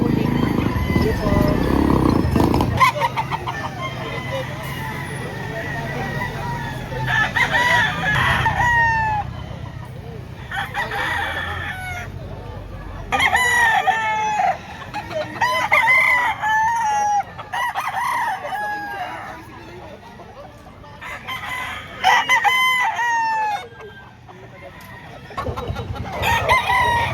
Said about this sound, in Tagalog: Apat na manok.